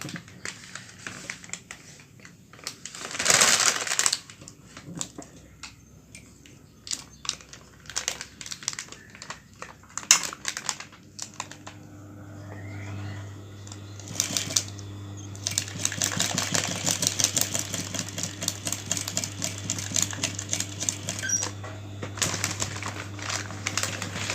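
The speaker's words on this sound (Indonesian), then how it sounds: "setelah itu kita jahit, kita tindas dengan mesin ya" Sewing machine stitching recycled plastic bag material, with crinkling plastic handled in bursts, then a steady motor hum and rapid needle clatter building up toward the end.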